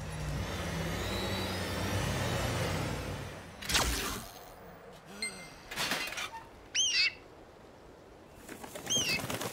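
Pigeons in the Lost Ark video game, a burst of wing flapping followed by scattered fluttering and short bird calls over quiet ambient background.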